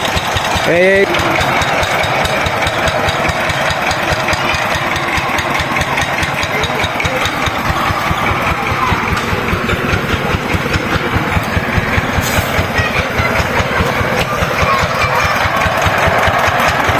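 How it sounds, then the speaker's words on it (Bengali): A power tiller engine drives a paddy threshing machine, chugging steadily and loudly up close with a fast, even mechanical pulse throughout, a brief whistle-like squeal early on. "এই মেশিন দিয়ে কিন্তু ধান ঝাড়া হবে"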